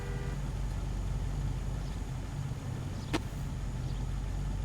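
Car engine droning steadily while driving in the L.A. Noire video game, a constant low rumble throughout with a brief sharp tone near the end.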